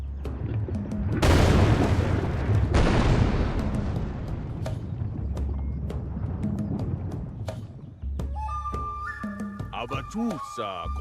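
A deep rumbling from the volcano Fire Mountain in the survival building game Tribe Primitive Builder, with booming blasts that swell loudly and then fade, followed by scattered tonal game sounds.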